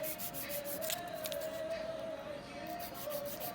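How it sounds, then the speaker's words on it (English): Electric nail file buzzing as it reshapes a wide fingernail from sidewall to sidewall, a thin steady whine under faint rubbing and scraping, fairly quiet and close. "I'm going to go ahead and refile that nail so it can be sidewall to sidewall."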